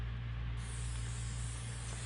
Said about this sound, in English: and I spray it.